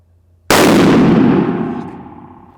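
A single very loud, close gunshot from a Smith & Wesson 460 revolver, an abrupt blast that rings out and decays over about two seconds.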